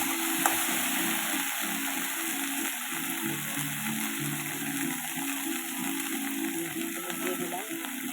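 Fresh homegrown okra (bhindi) sizzles and fries in a pan, a steady crackling hiss with occasional stirring scrapes, close and continuous throughout.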